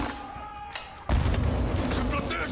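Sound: grenade launcher fire in Call of Duty Modern Warfare 2 video game

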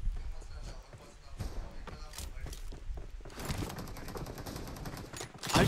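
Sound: gunfire in video game BGMI

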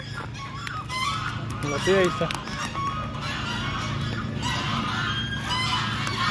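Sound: ducks honking and quacking in a park

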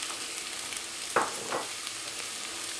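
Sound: minced meat frying in a pan for eggplant dish

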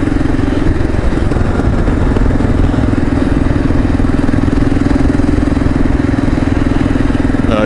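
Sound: motorcycle engine idling

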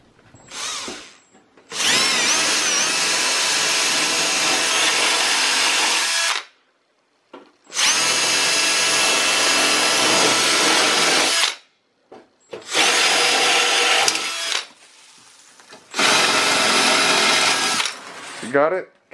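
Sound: power drill

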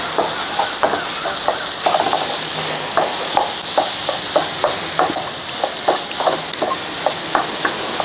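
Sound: stirring egg thoran frying in a pan

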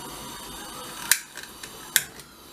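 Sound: lighting a gas burner

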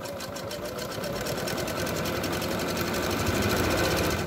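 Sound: Singer Facilita 43 sewing machine stitching zigzag

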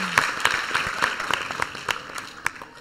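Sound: audience applause

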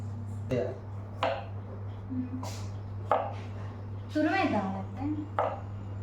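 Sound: chopping vegetables into small pieces

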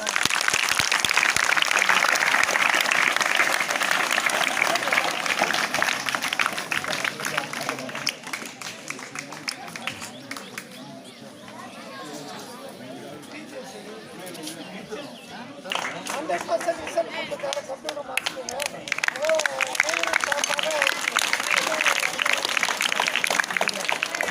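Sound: audience clapping for a student receiving a shield

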